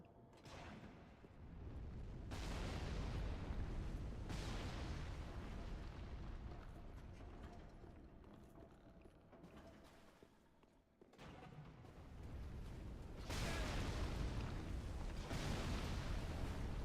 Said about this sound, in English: Big ol' rotating triple ballista.